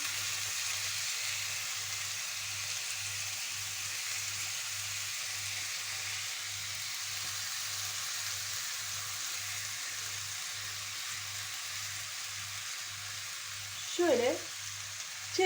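Frozen salmon fillets fry in a pan with a steady, soft sizzle that continues throughout, and a brief clink or scrape near the end.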